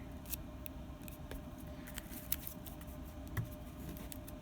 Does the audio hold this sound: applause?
no